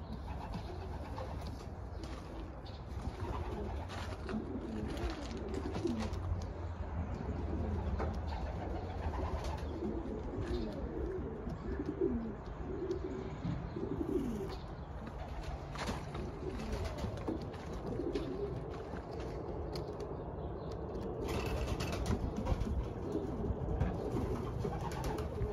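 Young pigeons coo steadily throughout a breeding loft, a soft continuous murmur of many birds close by with low rumbling background noise and no talking.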